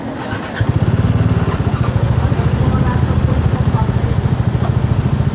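A 525X motorcycle engine and exhaust run close and loud, a steady rapid thumping pulse that starts after a brief lead-in and holds evenly throughout.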